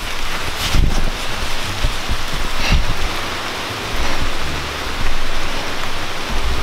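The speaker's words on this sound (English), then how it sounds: "Guys, it's raining really hard." Heavy rain pours steadily outdoors in a city at night, a dense, loud wash of hiss close by with occasional louder gusts and rustling, no voices.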